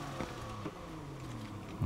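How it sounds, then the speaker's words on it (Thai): A Buick Grand National engine idles in Need for Speed Heat, a low, steady rumble with a faint turbo whine and a couple of small revs. It is heard alone, fairly quiet. "เสียงเครื่องยนต"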